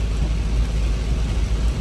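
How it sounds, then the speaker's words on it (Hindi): Heavy rain in Goa pours as a dense, steady hiss with a low rumble beneath, continuous and fairly loud with no talking. "ये देखो बारिश ही बारिश है"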